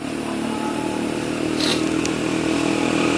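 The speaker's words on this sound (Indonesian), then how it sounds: "lalu lalang itu pakai knalpot brong lah, itu mengganggu sekali sih, dan itu berisik" A motorcycle fitted with a loud aftermarket exhaust rumbles past a campervan park in Batu, giving a steady, fairly close engine drone that swells slightly midway, with no talking.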